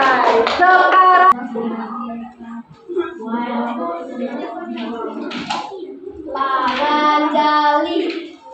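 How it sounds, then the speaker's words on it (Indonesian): A school class claps hands in a classroom: short bursts of clapping under children's and a teacher's voices, with talk and sung or chanted speech dominating much of the time. "tepuk tangan buat contoh ekosistem"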